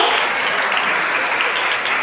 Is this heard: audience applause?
yes